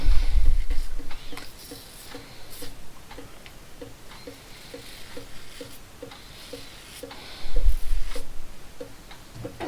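A clock ticks steadily at a quick, even pace, faint and close, under brief heavier thumps and handling noises at the start and near the end.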